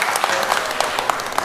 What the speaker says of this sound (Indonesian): give big round of applause